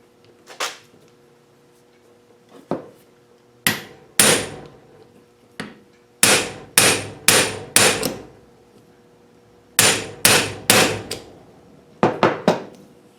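A hand tool works loose the parts of a drill chuck, giving sharp metallic knocks and clicks, single at first and then in quick clusters of three or four, close and loud with quiet gaps between.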